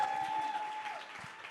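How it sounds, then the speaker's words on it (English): A faint, steady patter of audience applause fills a short moment at a talk-show style chat, a thin tone running through it before fading. "And round of applause."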